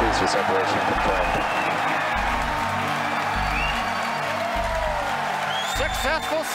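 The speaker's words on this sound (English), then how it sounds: "if you can hear me over the cheering." Crowd cheering and applauding at a SpaceX Falcon Heavy launch as the side boosters separate, a dense continuous roar of clapping and shouts, with a commentator's voice and a low rhythmic hum running under it.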